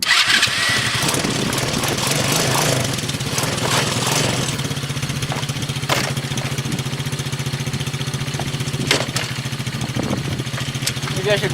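A mini ATV engine is cranked and catches, then settles into a rapid, buzzy putter with a steady idle rhythm, loud and close, with sharp clicks and knocks scattered over it and a voice heard faintly.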